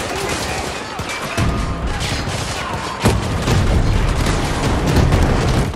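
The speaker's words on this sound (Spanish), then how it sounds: "Todo está explotando aquí." Explosions and gunfire in the video game Battlefield 2042 come as sharp booms and bursts of shots over a rumbling battle din, with one heavy blast standing out partway through.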